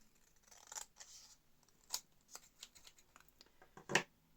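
Scissors trimming paper for an envelope folio craft project, quiet and close, a few scattered snips and rustles with a sharper louder cut near the end.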